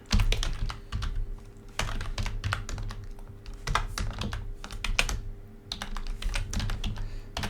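Typing code on a computer keyboard, quick irregular clicks of keys in steady bursts, close and clear with no talk.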